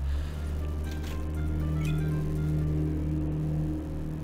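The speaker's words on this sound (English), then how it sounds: "Sure, loud car." A steady, loud car engine drone with a low humming tone holds throughout in the game Arc the Lad 3, like idling or cruising, with faint clicks layered on top.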